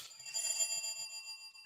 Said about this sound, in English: Doorbell's ringing? I hear it, dear.